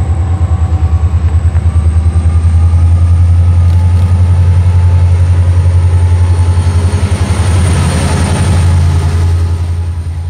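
Freight train L-428 rolls past eastbound on the B-line near the Ansonia, Ohio yard, a loud, close, continuous rumble of wheels with a rhythmic clickety-clack over the rails and a heavy low engine drone.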